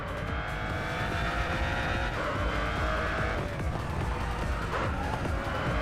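A Mercedes-Benz CLK GTR race car drives in the Racing Master video game, its engine droning continuously with shifting pitch and a faint tire squeal.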